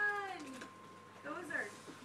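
A female house cat meows indoors near a carpet in a few short, rising cries, close and fairly clear, with a person talking softly around them.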